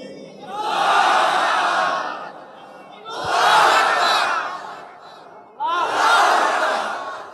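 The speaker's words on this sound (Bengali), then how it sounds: "দাঁড়িয়ে বাঘের মতো 3টা তাকবীর দিবা, লিল্লাহি তাকবীর বলে" A large crowd roars the takbir, Allahu Akbar, three times in loud drawn-out chants of about two seconds each, separated by brief lulls, close and overpowering.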